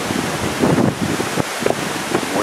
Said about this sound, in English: More steady wind.